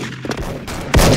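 Gunfire crackles in a shooter video game, with a few sharp near shots followed by a loud, heavy blast near the end.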